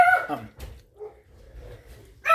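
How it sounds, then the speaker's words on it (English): Small dogs, including a miniature pinscher-type, bark and yip in short sharp bursts near the start and end, with a quieter whimper and low background noise between. "The dogs and stuff were starting to carry on, so then these ones started carrying on."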